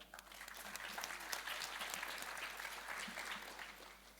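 An audience at a startup demo day applauds the pitch presenters as they take the stage. Steady, moderately loud clapping holds throughout with no break.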